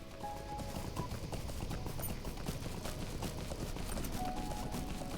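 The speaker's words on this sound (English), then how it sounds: "Right, let's get on my horse." Horse hooves clip-clopping in a Lord of the Rings video game, heard as a steady, fast run of hoof beats close up over a dense game soundtrack, with no talking.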